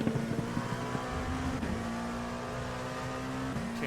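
A race car in iRacing at Watkins Glen, its engine droning loud and steady as it accelerates back on the throttle, with a constant high tonal whine running throughout and no talking.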